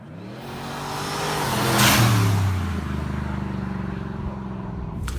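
A boosted truck engine revs hard during a pull, its pitch climbing to a loud peak around the middle and then settling into a sustained high drone, close and with no voices.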